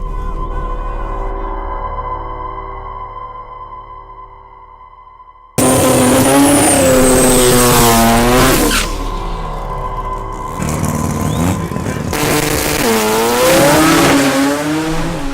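Two-rotor rotary-engine drag race car making a quick pass on a cool night, starting after a few seconds of quiet hum with a sudden loud, buzzing rotary howl that climbs through rapid gear changes before fading off.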